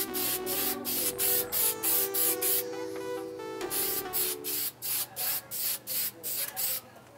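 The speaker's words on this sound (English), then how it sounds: "our final step, now that they're all clear, is to go over them with the headlight coating" Headlight coating is sprayed onto car headlights in short, rhythmic hissing bursts, about a dozen quick sprays with a pause partway through, heard close and alone.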